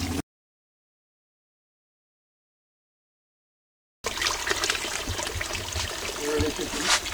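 Natural spring water trickles out of rocks among bushes in the Jamaican countryside, a close, steady rushing dribble that starts abruptly after a long stretch of silence and runs on to the end.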